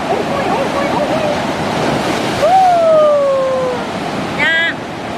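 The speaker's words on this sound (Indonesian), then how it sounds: "di pantai batu hiu ombakna kencang siga nu ngamuk" Rough ocean surf pounds the shore at Batu Hiu beach in Pangandaran, West Java, a steady loud wash of breaking waves with wind noise, while a faint whistle-like tone and a brief chirp pass over it.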